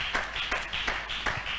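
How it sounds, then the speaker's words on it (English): Congregation in a church clapping hands in a steady rhythm, about four unison claps spaced evenly, moderately loud with a faint room hum underneath. "Clap your hands for Jesus."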